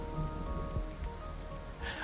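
Steady rain falling in the video game Endzone, a continuous soft hiss of drops on surfaces throughout, with faint low rumbles beneath and no voices.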